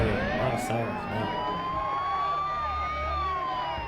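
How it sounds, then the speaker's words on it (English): Sirens wail continuously in the Shadow Man video game, several overlapping rising and falling tones sweeping steadily over a dense, loud background. "Wow, you can hear a lot of sirens now."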